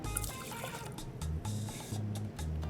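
Dark rum pours into a measuring jigger or glass for a River Cruise cocktail, a close, quiet trickle with a gurgling rhythm and a few small clinks, with no talk.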